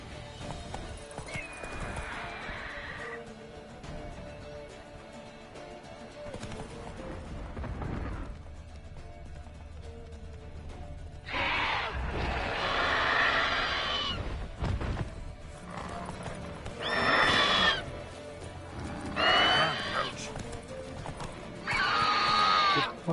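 A horse in Witcher 3 whinnies several times and its hooves clip-clop at a gallop, loud and close, with bursts of neighing toward the end over a steady game background.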